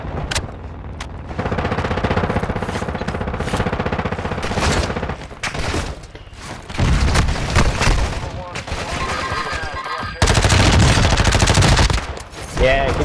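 Video game gunfire crackles in dense, rapid bursts, close and loud, with the volume rising and falling across several sustained volleys and a sharp final barrage.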